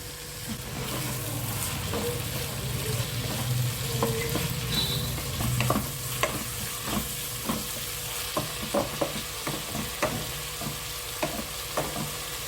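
Flat beans and amaranth leaves frying in a pan, giving a steady close sizzle throughout, broken by occasional scrapes and taps of stirring.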